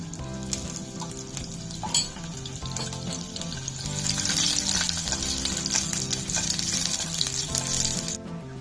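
Garlic sizzles in hot oil for a Malvani-style fried rice tempering, a steady, close, crackling fry with occasional stirring scrapes and no voices.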